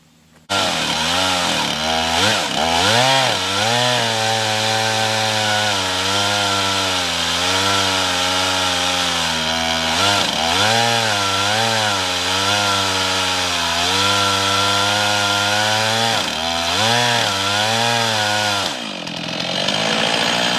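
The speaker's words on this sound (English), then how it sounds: "I decided that we're going to go ahead and try to mill the last part of this log up here" A Stihl MS 391 chainsaw milling a log roars loud and close for nearly the whole stretch, its pitch dipping and rising as the chain bites and frees, before it eases back at the end.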